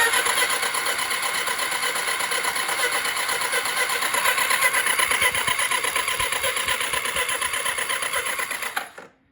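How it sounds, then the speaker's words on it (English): A rebuilt 1989 Kawasaki Ninja ZX7 motorcycle engine cranks over on its starter, making a steady, rapid mechanical whirring buzz that runs for about nine seconds and then cuts off abruptly, with no talking. "just checking that everything cranks over and that I've got spark now that it's all back together"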